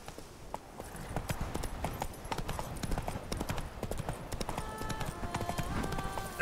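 Hooves of the horse Roach clip-clop at a steady trot in The Witcher 3: Blood and Wine, with a faint whinny and ambient music in the game world, close and continuous.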